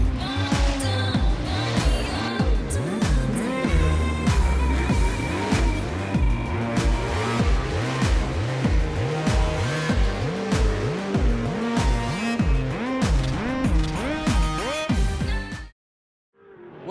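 Pro 2 off-road race trucks warming up on a desert course at Primm, Nevada, south of Las Vegas, engines revving and rising in repeated sweeping pulls, loud and close with a steady din, cutting off abruptly at the end.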